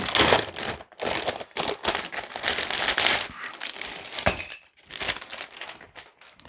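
A plastic bag crinkles and rustles loudly up close in bursts, with brief pauses between handling, as if being scrunched and pulled.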